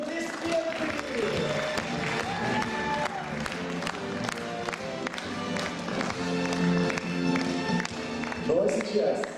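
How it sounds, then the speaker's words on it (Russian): At a gala concert for a youth competition, a hall audience applauds in a dense continuous roar of clapping, with a loud voice and music-like tones running through and over it. "Еще раз аплодисменты!"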